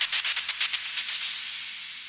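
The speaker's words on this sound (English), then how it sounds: "And it turns into a reverb wash." Rhythmic hissing noise pulses fade into a smooth, sustained wash of reverberant hiss that slowly decays.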